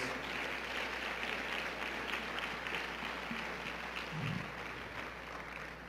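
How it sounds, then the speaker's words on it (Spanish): Congregation applause in a Spanish-language church service, a continuous even patter of many hands clapping at moderate volume, with a low hum beneath and a brief voice sound late on. "Dale un aplauso al Rey de Reyes y al Señor de Señores."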